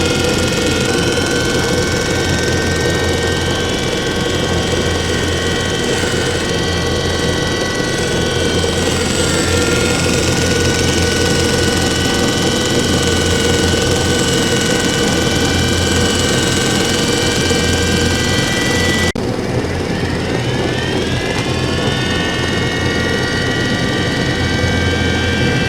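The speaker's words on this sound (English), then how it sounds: "we're going to fire that up, get our grinding wheel going" A 95-year-old Kwik-Way grinder running with its grinding wheel spinning, a loud, steady mechanical whine with layered tones that dip and shift partway through as the wheel is advanced, close and continuous with no talking.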